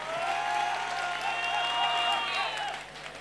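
Applause and scattered cheering from an audience at a live stage event, a steady dense clatter of clapping over a faint tonal hum, tapering off near the end.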